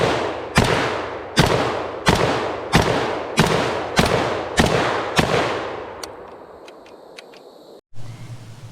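A FEG HD18 Dragunov-style rifle fires eight evenly spaced loud gunshots outdoors at dusk, each crack trailing into a long echo, followed by a quieter tail and a brief low thump.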